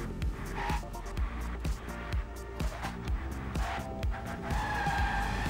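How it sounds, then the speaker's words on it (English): Race cars in a racing video game roar at high revs with repeated tire squeals and skids, engine pitch rising and falling through gear shifts in a steady, busy stream of game sound. "Yeah, Leo is pushing it. He's driving faster and faster"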